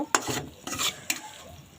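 Biryani masala stirred and frying in a pot over a medium flame, a few scraping stir strokes with soft sizzle between them, close and alone with no talk.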